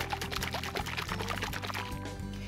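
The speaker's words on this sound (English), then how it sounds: "Shake this up just one more time before I pour it in." Thick chia berry pudding mixture pours from a shaker into a glass, a steady soft liquid flow lasting a couple of seconds, close and fairly quiet with no talking.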